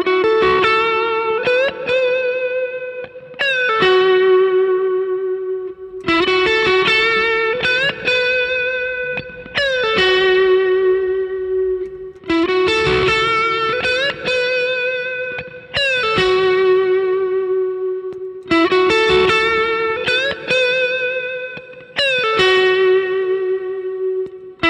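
Electric guitar solo played through a sequence of overdrive pedals, loud and sustained with singing distorted lead notes, repeated phrases separated by brief gaps, no voice.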